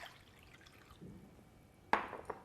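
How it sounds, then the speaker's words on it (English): Water is poured from one bowl into another in a kitchen, making a faint, brief splash and trickle followed by a sharper drip or clink near the end. "the water will be shifted to that one"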